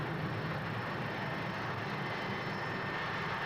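A four-engined Comet jet airliner with Rolls-Royce Avon engines, a steady, dense roar of jet engine noise holding at one level throughout, with no talking.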